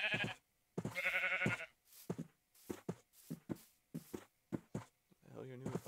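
Sheep bleat in a video game, a couple of wavering, nasal cries mixed in with a man's choppy, intermittent talking.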